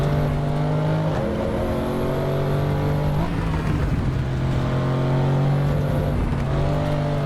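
An Audi RS6 engine roars steadily at full throttle around the Nordschleife, a loud, continuous in-car drone whose pitch rises through the gears with brief shifts.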